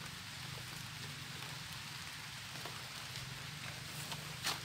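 Rain falling steadily outdoors during mushroom picking, a continuous soft hiss with a faint low rumble underneath and an occasional brief louder patter near the end.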